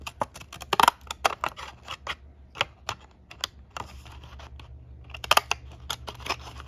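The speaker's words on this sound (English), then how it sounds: "They also don't cut through this paper very good." Scissors snip through paper in a series of sharp, close clicks and crunches, irregularly spaced, with a cluster of louder cuts near the end.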